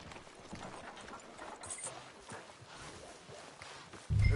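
Horse hooves clip-clop at a walking pace in Red Dead Redemption 2, a steady, moderately close rhythm over game ambience, with a louder thump right at the end.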